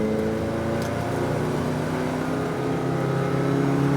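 A McLaren 570 GT4 race car on track, its engine droning steadily and loud at near-constant pitch from inside the cockpit, with no clear revving changes.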